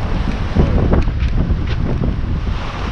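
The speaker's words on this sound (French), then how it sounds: "vent contre courant, sortie du golfe, toujours un peu rock'n'roll." Sailboat heading out of a gulf with wind against the current, a steady loud roar of wind buffeting the microphone over water and hull noise, with brief splashing bursts and no talk.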